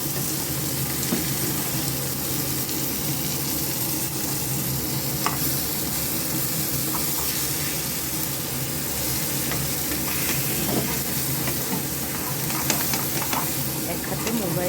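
Catla fish pieces fry in hot oil with a constant, close sizzle and hiss, broken by occasional clinks and scrapes of stirring.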